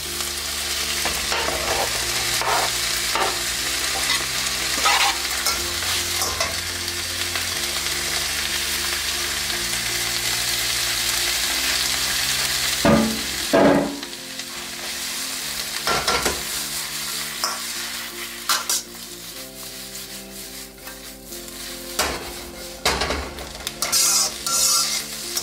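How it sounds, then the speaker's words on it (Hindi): Shredded cabbage and carrot are stir-fried with capsicum and onion for street-style Indian chow mein, producing a loud continuous sizzle punctuated by repeated metal spatula clanks and scrapes against the pan, with no talking. "अब इसके अंदर डालेंगे हम बंद गोभी और गाजर।"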